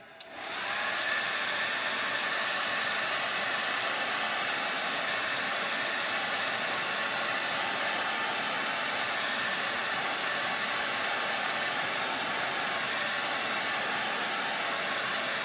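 A hair dryer blows steadily and loudly on wet collage paper for a craft tag, a constant even rush of air with no talking.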